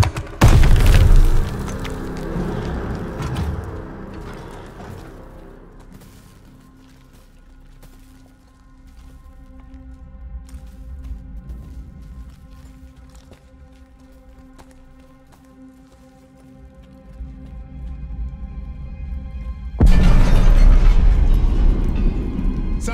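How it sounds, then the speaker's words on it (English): A grenade blast in a realistic next-gen first-person shooter on PS5 erupts as a heavy, booming explosion up close, fading into a long rumbling tail and debris before another loud burst of combat noise near the end. "Grenade! Get down!"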